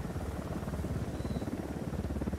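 Steady low rotor thrum of a helicopter approaching in the Ghost Recon video game, a continuous dense rumble holding at moderate loudness throughout with no speech over it.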